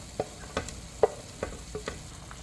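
Silkworm pupae braising in a pan of sauce with chili and green onion, soft intermittent sizzles and a few light clinks of stirring over a quiet bubbling bed, no talk.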